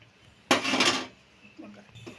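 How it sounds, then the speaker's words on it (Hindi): A spoon scrapes and clatters against a cooking pot while besan kadhi with potatoes is stirred, one loud metallic burst followed by softer scraping and a faint voice. "इसको बराबर चलाते रहिएगा"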